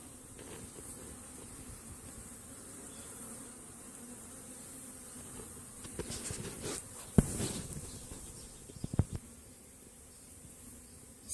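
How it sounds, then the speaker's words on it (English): Upset honeybees buzz around a hive, a close, steady hum from the swarm with louder swells as individual bees fly past, plus a few faint handling knocks partway through. "I got a couple of upset bees."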